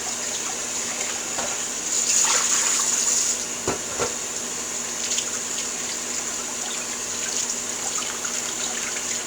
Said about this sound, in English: going to run some fresh water on there to wash off all those husks